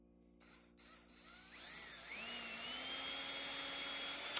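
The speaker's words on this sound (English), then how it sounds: "I drill holes for the joint hinge pins" A small drill bores hinge-pin holes in a wooden rat wakebait lure. Faint clicks lead into a quiet, steady, high whine that rises slightly in pitch as the bit spins up and cuts.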